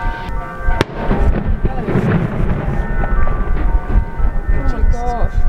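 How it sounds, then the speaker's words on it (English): Fireworks crack and boom just above a boat at sea in scattered bursts over wind noise, sounding like gunshots, with people talking and exclaiming throughout. "There's fireworks going off just above the boat."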